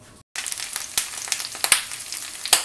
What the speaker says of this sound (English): It's sizzling. I'm going to just give it a little stir.